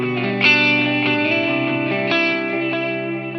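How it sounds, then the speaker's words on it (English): Electric guitar played through a transistor tape delay on a Line 6 HX Stomp, with sustained distorted chords and a few picked accents whose repeats smear into a dense, echoing wash, loud and alone. "We're going to start off by adding the transistor tape delay."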